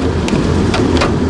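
Rainwater drips inside a tunnel, a dense wash of splashing and dripping with a few sharper individual drops standing out over a continuous wet background.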